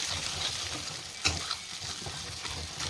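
Egg fried rice being tossed and fried in a pan with tongs, giving a steady soft sizzle with light stirring scrapes and a couple of sharper clinks, close and alone without talk.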